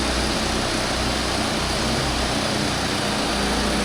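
Motorboat engine of a boat arriving in a Lao river village, a continuous loud buzzing drone close by, steady with slight fluctuations.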